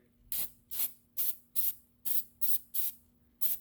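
Eight short bursts from a shaken spray can apply brake coating to rear brake parts of a 2018 Lexus ES 350, each hiss about a quarter second long, close and steady, with a faint hum underneath.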